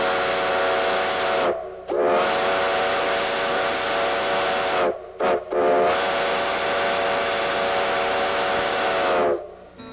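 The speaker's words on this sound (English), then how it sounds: "it's the sound of an old steam engine that brings back memories of an almost forgotten era" An old steam locomotive at Railtown 1897 sounds its whistle in two long, loud blasts split by a brief gap, each ending abruptly over a hissing rush of steam, with no voices.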